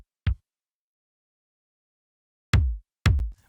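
A layered kick drum, an EDM kick blended with a line kick and a 707 kick, plays alone: one short hit, a pause, then two heavier hits close together, deep and punchy.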